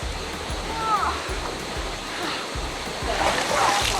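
Cold mountain valley stream at Jungsan-ri on Jirisan, water rushing steadily with a broad splashing roar throughout, with faint voices and brief splashes mixed in.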